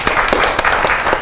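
An audience at an education forum applauding, loud and close with a dense stream of many clapping hands and a few sharper individual claps standing out.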